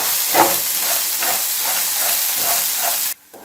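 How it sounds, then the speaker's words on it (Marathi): Green chillies with salt roast in a pan over a medium flame, giving a steady, close sizzling hiss with slight pulses. The sizzle cuts off abruptly just before the end. "हे पहा, अशा प्रकारे मिरच्या भाजल्या गेल्या पाहिजेत"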